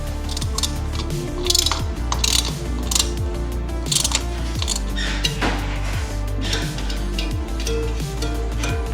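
A ratchet with an 8 mm socket tightens a nut on a fender bolt during a shorty fender kit install on an ONYX Motors RCR 80V electric bike, a continuous rapid clicking of the pawl at close range.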